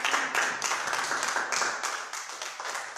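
A church congregation bursts into applause, many hands clapping in a dense, even wash that swells slightly and then eases a little, heard from inside the room without voices over it.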